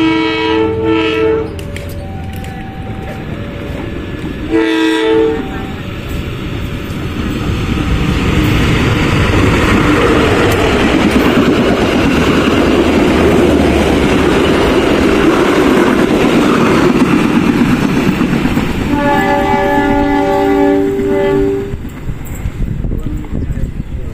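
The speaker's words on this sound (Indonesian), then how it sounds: "itu dia momen melintasnya KA Tawang Alun" The KA Tawang Alun passenger train passes Jati station, sounding loud, repeated horn blasts before and after a long, heavy roar of wheels and carriages rushing by close at hand.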